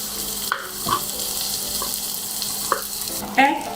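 Potato pieces with onion sautéing in a pan for a cauliflower and potato katla fish curry, a steady hiss of frying with a few scrapes and clinks of a spatula; no speech.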